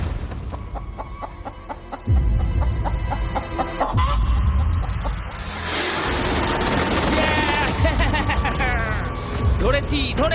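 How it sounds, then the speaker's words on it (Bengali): A chicken caught on an island clucks loudly and close, with agitated bursts over heavy background noise. "ও, মুরগিটাকে বেশ ভালো দেখতে কিন্তু।"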